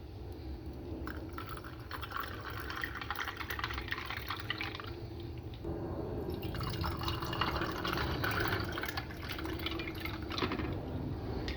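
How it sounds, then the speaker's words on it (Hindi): Cold water pours into a tamarind and plum sharbat mixed with sugar powder and black salt, a close, continuous splashing and trickling stream that deepens slightly as the glass fills, with no talking. "इसके अंदर अब मैं ठंडा पानी डालती हूँ।"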